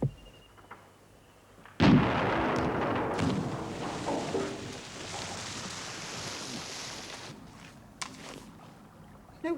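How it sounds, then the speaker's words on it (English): A single cannon blast in a seafaring adventure drama booms out suddenly, followed by a long rolling rumble and echoing noise that fades over several seconds, with a fainter later thud. "Sounded like a cannon."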